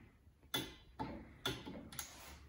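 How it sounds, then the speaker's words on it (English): A torque wrench clicks on the cylinder head bolts of a Polaris Indy 440cc snowmobile engine, tightened in a star pattern: four sharp, close clicks spaced about half a second apart, with no one talking. "Now I'm back with the torque wrench."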